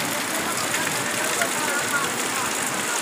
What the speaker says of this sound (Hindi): ये देखें, तरपालों से पानी टपक रहा है परनाले की सूरत में।